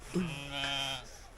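A single faint sheep bleat, a wavering nasal call about a second long, heard from a distance in a quiet space at an outdoor festival.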